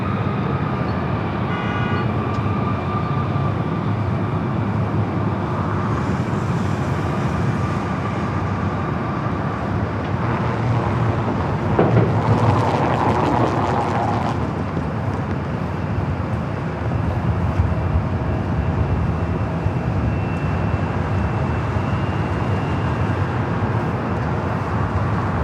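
An airliner taking off from the south side runway at LAX, a distant continuous rumbling roar that swells slightly midway through and holds steady, with no talking.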